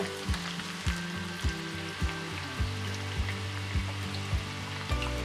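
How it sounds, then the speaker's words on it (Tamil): Chicken 65 frying in hot oil over high heat, a steady close sizzle broken by regular bubbling pops and occasional stirring knocks. "இதை வந்து நல்லா ஒரு ஹை ஹீட்ல ஒரு 5 நிமிஷம் போல நாம நல்லா ஃப்ரை பண்ணிக்கணும்"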